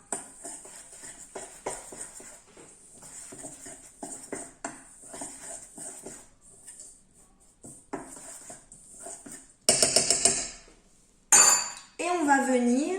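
Dry ingredients for a low-GI hazelnut cake, including a teaspoon of baking powder, being mixed in a bowl with a spoon: steady clinking and scraping strokes, then louder bursts of clattering near the end.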